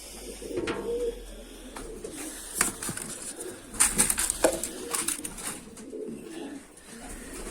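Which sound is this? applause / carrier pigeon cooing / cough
carrier pigeon cooing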